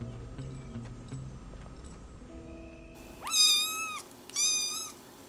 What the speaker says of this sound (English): Aw, that's a cute meow.